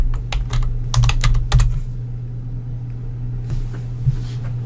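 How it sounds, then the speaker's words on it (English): Typing on a computer keyboard: a burst of quick key clicks in the first two seconds, then a softer, sparser patter of keystrokes, close and clear over a steady low hum, with no talking. "I'll just type in that new page name."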